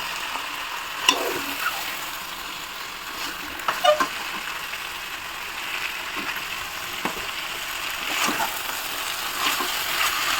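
Chicken pieces fry steadily in a pan of turmeric and salt masala for a homestyle biryani, a continuous close sizzle with a few soft stirring scrapes and clinks, no voices.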